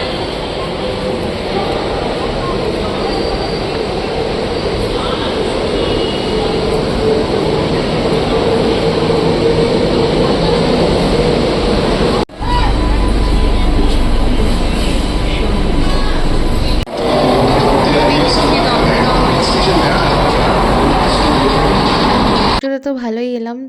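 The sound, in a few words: local train arriving at Dum Dum-bound station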